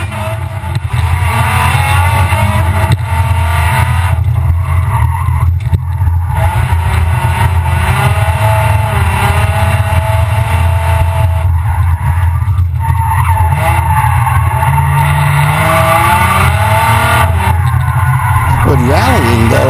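A rally car tears around a gymkhana course, its loud, continuous engine roar mixed with tire skidding and squeal from start to finish, with talk heard over the noise.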